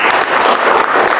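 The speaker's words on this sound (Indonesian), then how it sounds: "100, kasih tepuk tangan." A class of students applauds in a classroom, a loud, dense burst of clapping that stays steady and close for a second or so.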